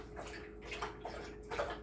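A dog slurps drinking water nearby, a quiet run of irregular wet laps and splashes in a kitchen.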